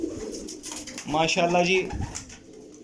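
Pigeons of the Taddy breed coo close by, soft throaty warbling calls that rise in the middle, while someone talks over them.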